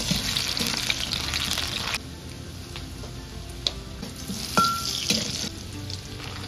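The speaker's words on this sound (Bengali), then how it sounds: "এবার কড়াইতে সর্ষের তেল দিয়ে প্রথমে কয়েকটা আলু ভালো করে লাল লাল করে ভেজে নেব নুন দিয়ে" Potatoes frying in mustard oil in a wok, a steady close sizzle running throughout, louder for the first two seconds and then softer, with a few sharp clicks and taps near the end.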